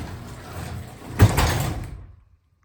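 A Wayne Dalton 10x16 garage door driven by a Craftsman opener rumbles down and lands with a loud thud, followed by a brief rattle before falling silent.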